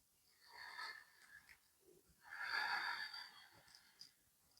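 Deep breathing during a yoga-based stretch session: two slow, airy exhales, the second longer and louder, close to the microphone and soft overall, with no talking.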